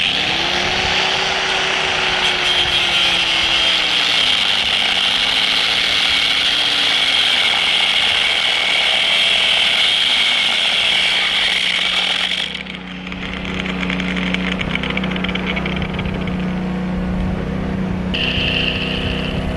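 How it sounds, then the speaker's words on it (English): An angle grinder with a cutoff wheel bites into broken cast iron on a Victor safe under repair, a loud sustained high whine. The motor pitch wavers, then the cut drops away near the end and comes back briefly as a lighter spin-up. "So let's cut that off with the cutoff wheel."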